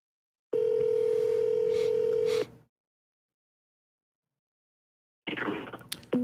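Steady telephone dial tone, loud and unbroken for about two seconds while a call is placed back, then silence before a burst of noisy line sound.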